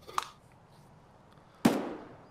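Two sharp blasts in the Escape from Tarkov shooter game: a small pop first, then a louder grenade explosion with a decaying rumble afterward, both fairly distant.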